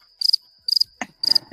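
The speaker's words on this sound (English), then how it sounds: "Yeah, Donna, I got to give you the crickets because that's kind of ridiculous." Crickets chirp in four short, bright trilled bursts, evenly spaced against a quiet background, with a couple of faint thuds between them.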